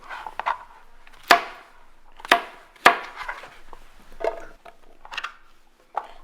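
Knife chopping yellow squash into chunks on a board, with several sharp separate thunks spaced irregularly and fairly close, plus lighter knocks in between.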